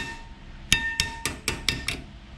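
Six sharp metallic taps, evenly spaced and close, as a brake anti-rattle clip is tapped into place with a small screwdriver on the front brakes of a 2011–2022 Jeep Grand Cherokee, each tap ringing briefly in a quiet garage.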